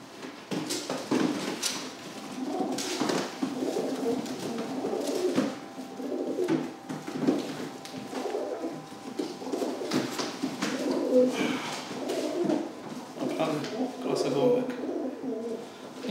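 Several racing pigeons coo in soft, throaty rolls, repeating close by while a person talks intermittently over them.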